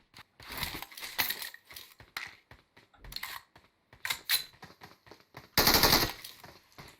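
Rapid bursts of automatic gunfire from the mobile battle royale game PUBG Mobile, several separate volleys with short gaps and a loud, dense burst near the end, heard alone without talk.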